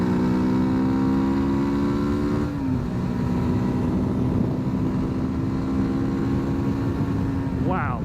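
A Hyosung GD250R 250cc motorcycle accelerates hard, its engine droning loud and steady with rising pitch, one upshift partway through and another climb starting near the end, wind rushing beneath.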